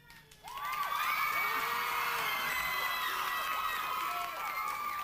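A 1997 concert audience at a spotlight show erupts into loud cheering, whoops and shrill shouts for the guitarist, a sustained roar from the crowd that holds for several seconds.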